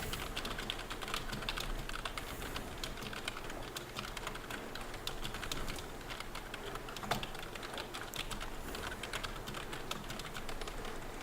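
Rapid, steady typing on a computer keyboard while writing grading comments, a close, continuous patter of key clicks with no voices.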